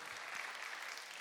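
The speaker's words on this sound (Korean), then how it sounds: "다시 한번 하나님께 영광 박수 올려드리면서" A church congregation claps together for the choir after its Easter Good Friday cantata, a brief, faint wash of even applause with no voices over it.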